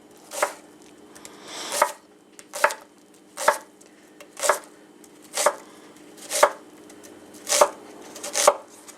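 A knife chopping onions on a board, about ten crisp, evenly spaced cuts in a steady slow rhythm, close and clear with nothing else heard.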